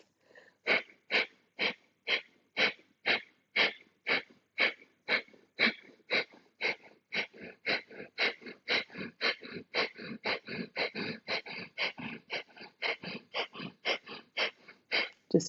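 Rapid rhythmic breath-of-fire exhalations, about two per second, sharp and close through the nose during a yoga breathing exercise, continuing steadily for the whole stretch with no talking.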